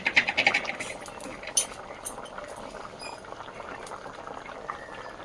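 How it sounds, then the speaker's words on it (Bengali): Curry bubbling vigorously in a pot, a steady close boiling hiss with a few louder bursts of bubbles at the start, then settling into a continuous churn. "জব্বর করে ফুটছে"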